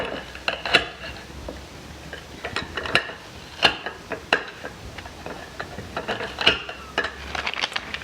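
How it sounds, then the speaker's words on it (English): Knife chopping fresh strawberries on a cutting board in a home kitchen, a series of close, sharp irregular taps and clicks over faint background hum. "I'm just going to chop up the strawberries just like I do for my freeze drying trays"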